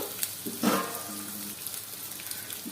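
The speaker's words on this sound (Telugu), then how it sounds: "గుప్పెడు తీసి పెట్టుకున్న వెల్లుల్లిపాయలు వేసేసుకొని కాసేపు ఫ్రై చేసుకోవాలి." A handful of garlic cloves fries in a pan with a continuous soft sizzle, a few brief clinks and stirring scrapes near the start, and no talk.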